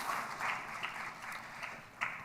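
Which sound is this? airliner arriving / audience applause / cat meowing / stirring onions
audience applause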